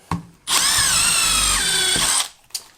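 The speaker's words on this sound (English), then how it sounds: "Put a couple more screws in, and then we can give it a quick test." A power drill drives a screw into a floor pump base, one loud sustained whir of under two seconds with the pitch dipping as the screw bites, framed by short clicks and knocks before and after.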